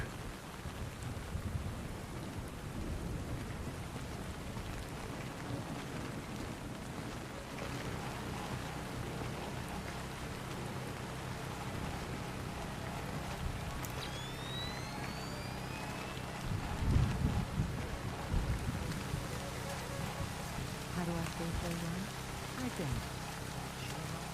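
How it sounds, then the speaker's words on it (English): Steady heavy rainfall hisses throughout, with a low rumble and a brief louder thump midway; no voices, in the video game Splinter Cell: Chaos Theory, lighthouse level. "Man, it's really raining."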